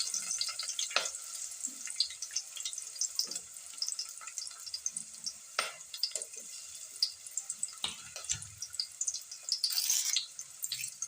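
Onion dropped into hot tempering oil in a pan for potato kurma, a soft crackling sizzle with scattered pops and brief bursts of spatter, close but quiet, no voices.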